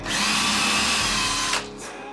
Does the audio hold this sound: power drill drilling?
yes